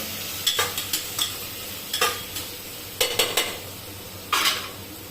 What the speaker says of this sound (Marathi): छान असे एक मिनिटासाठी परतवून घ्यायचं